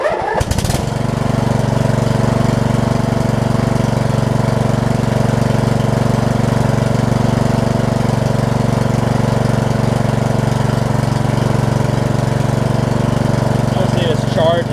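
A Huskee riding mower with a Briggs Intek engine that is hard to turn over cranks briefly, catches and then runs at a steady, loud, even drone.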